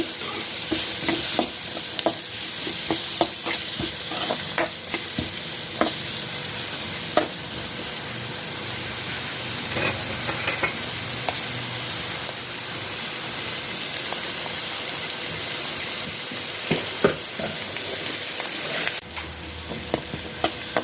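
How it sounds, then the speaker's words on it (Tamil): Carrots and capsicum fry in a pan for pasta, a dense close sizzle with frequent clicking stirs and scrapes throughout, fairly steady with a brief drop near the end, no voices. "கேரட்டும் குடமிளகாவும் நல்லா வெந்துடுச்சு."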